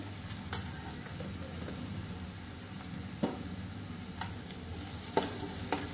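Asafoetida stirred into hot oil in a pan produces a steady soft sizzle with a few light scrapes and taps of the spoon, close by and fairly quiet, with no speech.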